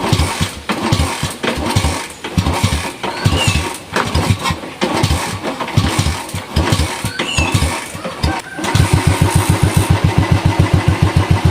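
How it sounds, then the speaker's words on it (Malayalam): An old Royal Enfield Bullet motorcycle, left unused for years and with a faulty self-starter, is cold-started: several uneven cranking bursts, then the single-cylinder engine catches and settles into a loud, steady thumping idle close by. "വാഹനം അങ്ങനെ സ്റ്റാർട്ടായിരിക്കുകയാണ്."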